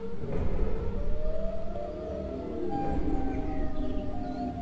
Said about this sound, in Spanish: La sirena de Siren Head. La sirena.